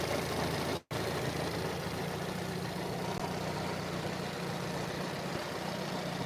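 A 1992 Fiat Uno engine runs at a steady idle with a continuous, even hum and a low drone, broken by one very brief dropout near the start.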